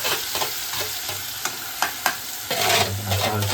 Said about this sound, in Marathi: त्या तेलामध्ये मग हा मसाला आपण फ्राय करून घेणार आहोत